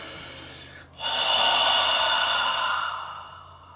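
Slow, deep exhale during a guided meditation, a long airy breath out swelling after a short pause and holding steady for about two seconds before fading, close and alone with no talking.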